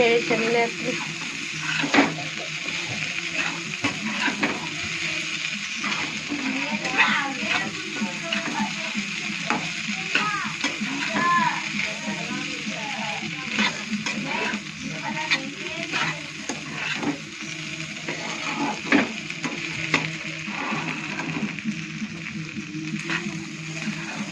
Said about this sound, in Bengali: এখন সুন্দর ভাজা হচ্ছে। দেখছো, নেড়ে চেড়ে